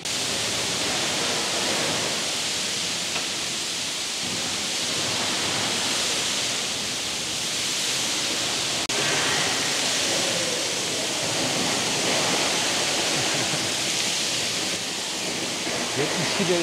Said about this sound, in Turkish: Vigitlo, sıcak termal kaynağı. 14 metre yüksekliğe kadar su fışkırtabiliyor.